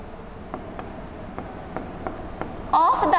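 Chalk or marker writing on a board in a physics lecture, close rhythmic strokes and taps, with a voice starting to talk at the end.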